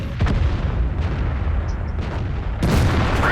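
A tank cannon in World of Tanks fires on a Jagdpanzer E100, a heavy booming shot near the start trailing into a low rumbling engine drone, then a second sharp blast near the end, loud and close.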